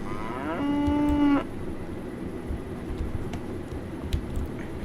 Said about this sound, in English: cow somewhere.